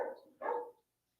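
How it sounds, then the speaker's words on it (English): A dog indoors gives two quick barks, close and moderately loud, then silence. "Sorry about my dog barking."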